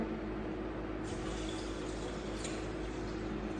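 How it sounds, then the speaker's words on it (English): Water steadily pouring into a blender for a date and sweet potato milk drink, a continuous close filling rush that runs throughout without pause. "So I'm gonna add some water."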